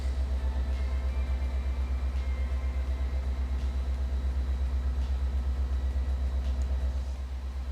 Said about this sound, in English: I forget what engine sound I have on these